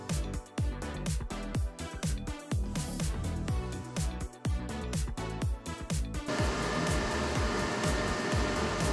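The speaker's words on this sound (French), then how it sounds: "1000 watts le sèche-cheveux" A 1000-watt hair dryer switches on after a stretch of rhythmic music, then blows a steady, loud, unbroken whoosh to the end.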